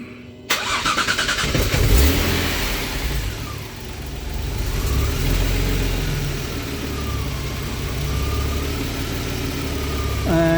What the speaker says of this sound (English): And we can start the engine.